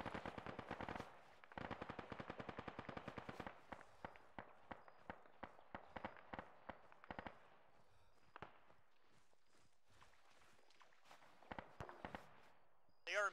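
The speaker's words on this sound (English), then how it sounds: "Sounds like fire coming to the northeast." Video game gunfire in a multiplayer war match, heard as rapid machine-gun bursts and scattered single shots. The shots are faint and distant, dense at first, then thinning into irregular pops, with no voices over them.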